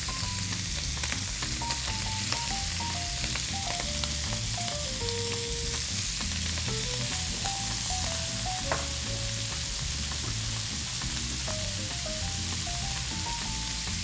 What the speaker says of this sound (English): So we'll allow our pan to heat up and gently throw our shrimp in there.